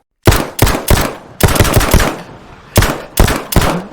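Gunshots in a comedy sketch, a loud close burst of repeated sharp bangs in uneven clusters, about eight or nine shots with short pauses between groups.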